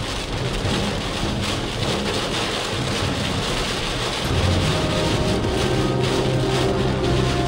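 Torrential thunderstorm rain drums hard and continuously up close, with a low rumbling undertone that swells partway through. No voices.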